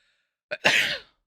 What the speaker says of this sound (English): Uh-oh, sneeze.